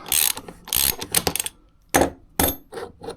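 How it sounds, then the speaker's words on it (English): A tool loosens the fork cap on a Voge 300 Rally motorcycle, giving loud, close ratcheting clicks in quick bursts separated by short pauses. "Loosen the cap"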